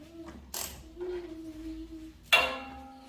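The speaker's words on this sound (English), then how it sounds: "So first, loosen the lock bolt." A wrench loosening a tensioner lock bolt, with a low mechanical creak that drones along and two sharp metallic clicks as the bolt gives, close and fairly quiet.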